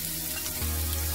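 Chopped small onions frying in a hot pan while cooking dhaba-style paneer bhuna masala, a steady close sizzle with a low hum throughout, no talking.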